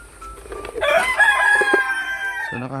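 A Rhode Island rooster crows loudly and close by in a long drawn-out call, with short clucks from the flock around it. No one speaks.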